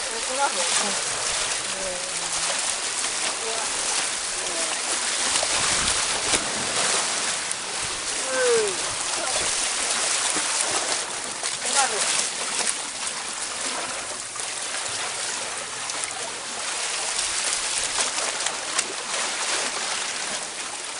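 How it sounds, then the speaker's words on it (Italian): Seawater splashes and washes steadily at Solanas Beach in Sardinia, a close, continuous broadband surge of surf with no break across the whole stretch. "Mi ha tutto schizzato l'acqua!"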